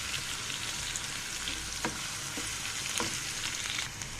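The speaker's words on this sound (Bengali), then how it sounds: "এবার পেঁয়াজটাকে ভেজে নেব" Chopped onions fry in a mixture of mustard and soybean oil for a tilapia fish curry, giving a steady, close sizzle broken by a few sharp stirring scrapes.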